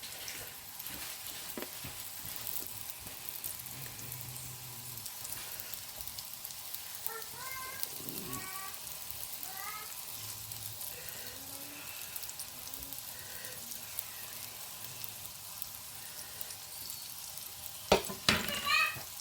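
Gyoza cook in a large frying pan with a quiet, steady sizzle and a few soft scrapes and clinks, ending in a brief louder clatter.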